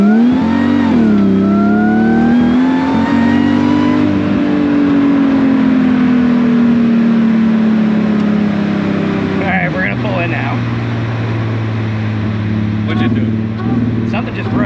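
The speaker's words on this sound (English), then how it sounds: "That sounds like the exhaust just broke off." A supercharged Mercedes SLK320-powered kart engine revs hard and steady, its pitch climbing and sagging, then the exhaust note abruptly drops and changes as it breaks off, loud and close throughout.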